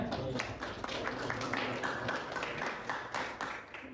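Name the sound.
applause from a classroom audience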